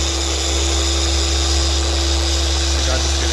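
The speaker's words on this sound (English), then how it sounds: "The slower you move the polisher and the longer you work it, the more defect removal you're going to get." A car paint polisher runs during a paint enhancement polish, giving a loud, steady, high-pitched motor whine that does not change through the whole stretch.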